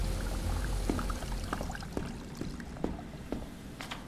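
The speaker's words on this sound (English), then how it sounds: "Drain water from lower floor." Water drains from a lower floor in the horror video game Lazaret, a faint pouring trickle with scattered soft drips and clunks at irregular intervals, no voices.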